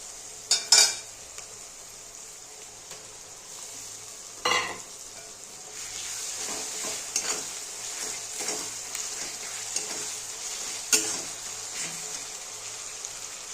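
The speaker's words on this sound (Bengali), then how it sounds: "এবার আমি মশলাটা দিয়ে দেবো।" Ground spices and onions fry in oil for Bengali chicken kosha, a continuous moderate sizzle broken by sharp metal spoon scrapes and clanks against the pan.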